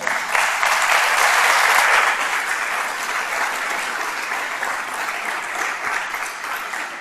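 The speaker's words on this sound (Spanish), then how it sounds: "Así que le damos un aplauso muy fuerte." Sustained audience applause after a talk on accompanying migrant families, loud and dense at first and then easing slightly while continuing steadily throughout, with no voices over it.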